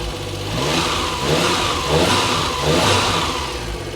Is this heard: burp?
no